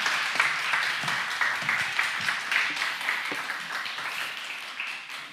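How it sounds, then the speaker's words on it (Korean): A church congregation in a Korean church applauds to welcome the pastor to the pulpit, a lively run of clapping from a moderate distance that slowly tapers off. "목사님 올라오실 때 뜨거운 환영의 박수 힘껏 쳐주시기 바랍니다."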